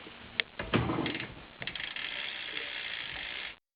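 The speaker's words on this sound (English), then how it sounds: "hub sound." The freewheel ratchet of an Eastern bidirectional BMX hub on a 2012 Eastern Traildigger rear wheel gives a close, fast, buzzing click that starts in bursts and then runs steadily before stopping abruptly.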